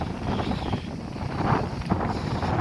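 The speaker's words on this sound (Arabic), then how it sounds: "كاين الريح بزاف الجو" Strong wind gusts buffet the microphone on an empty coastal beach at Amsa near Tetouan, roaring loud and continuous with rising bursts and no voices.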